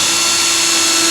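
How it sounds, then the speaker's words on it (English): A handheld power drill with a 1/8 inch bit bores a pilot hole, giving a loud, close, steady motor whine that holds constant throughout with no talking. "So now I'm going to drill my pilot hole"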